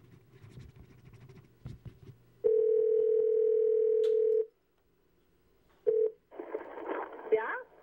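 A telephone dial tone holds steady for about two seconds, followed by a short keypad tone and then a warbling ringback on a call to a car phone, with quiet scratching and faint talk before it.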